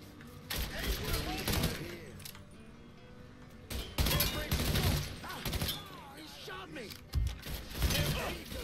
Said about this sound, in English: he don't even know what the hell he's shooting at